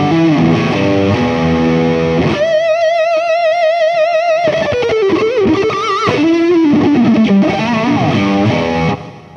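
A 50s Stratocaster single-coil pickup played through Overloud TH2 amp simulation at maximum gain: loud, heavily distorted electric guitar with sustained chords and bending lead notes, continuous for several seconds with no talking.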